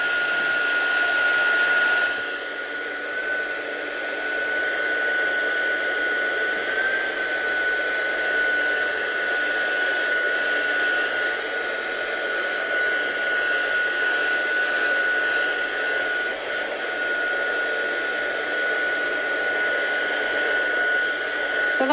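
A heat tool blows over ink for resist heat embossing, producing a steady, loud airy whir that runs unbroken for the whole stretch after a brief stronger start.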